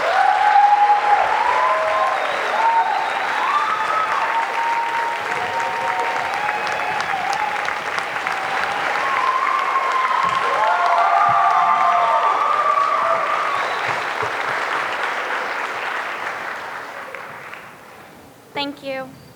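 A crowd at a youth leadership awards ceremony applauds for a long stretch in a broad, sustained wash of clapping. A few brief whistle-like tones rise over it, and it thins out near the end.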